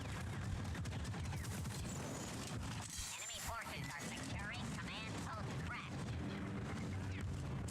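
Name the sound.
grenade explosion in a video game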